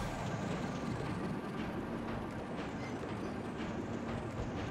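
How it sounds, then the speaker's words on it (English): Train ride in Zelda: Tears of the Kingdom, a steady dense rumble of rolling wheels and rail noise that holds level throughout, with no talk over it. "All right, we're going on a train ride."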